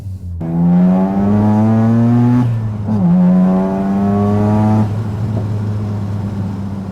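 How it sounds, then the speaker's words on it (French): A Mazda RX-7 FD rotary-engine car revs loudly up close, rising in pitch to a buzzing wail, dropping, then revving up again in repeated pulls. "Il n'y a aucun autre moteur qui produit un bruit comme celui-là."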